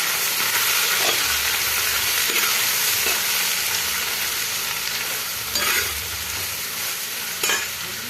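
Chopped vegetables are stirred into beef frying Kerala style, producing a loud, continuous sizzle and hiss with scraping spoon strokes and a few sharper clanks against the pan, no talking.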